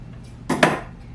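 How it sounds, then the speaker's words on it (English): Scissors cutting upholstery fabric close to a stitch line on a chair being re-upholstered: two quick, close snips in quick succession against a quiet background. "this flat off right next to my stitch line, being very careful not to cut into it"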